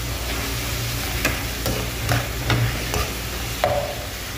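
Oil frying in a pan as it is stirred, a constant sizzle with several distinct scrapes of a utensil against the metal, close and fairly loud.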